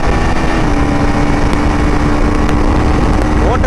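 A 2025 KTM 390 Adventure motorcycle engine roars loudly and up close while the bike accelerates, a steady, dense drone with wind rush and a rising whine toward the end.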